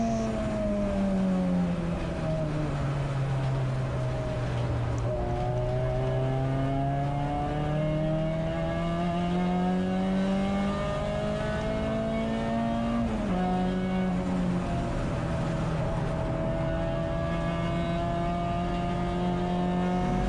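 A Renault Clio race car at speed on the Anglesey circuit during a 24-hour endurance race, its engine note rising and falling steadily through gear changes and corners, loud and continuous.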